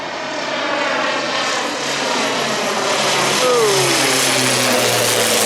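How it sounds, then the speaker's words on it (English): A propeller airplane passes overhead, its steady engine drone filling the air with a rising and falling pitch as it goes by; loud and continuous with no talking. "Now here comes a plane."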